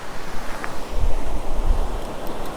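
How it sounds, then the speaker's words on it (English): Ocean surf washing onto a Sanibel beach at low tide, with a steady low rush and soft swelling surges, plus gusty wind noise on the microphone and no one speaking. "surf like this, it washes stuff up"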